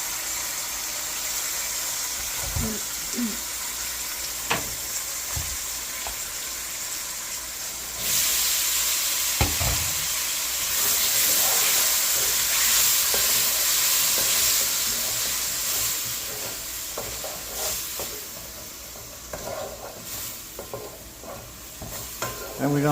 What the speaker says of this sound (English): And we're gonna let that simmer in medium high.